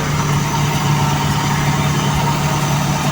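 A Toyota 2E carburetor engine idles up during a cold start, a steady, loud, even drone with no talking.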